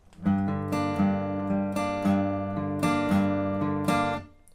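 Solo guitar repeats a riff four times, each pass opening with a crisp picked note that rings on, steady and close without any voice.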